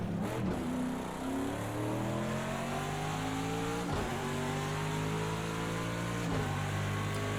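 A GTD Pro sportscar racing at Laguna Seca in an IMSA Florida Racing event gives a loud, close, continuous engine roar, its pitch climbing steadily through repeated upshifts, with no voices.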